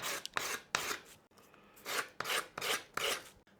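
Rasping file strokes shape a guitar nut on a worn 1990s electric guitar, about seven close, scratchy back-and-forth passes in an uneven rhythm, with no talking.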